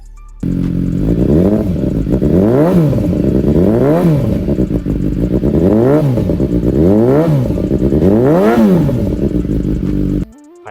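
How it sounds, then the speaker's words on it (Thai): A 2017 BMW S1000R motorcycle engine with an aftermarket AR exhaust revs hard over and over, about five rising and falling surges in a loud, close, steady rhythm before cutting off. "มาฟังเสียงเครื่องยนต์กัน"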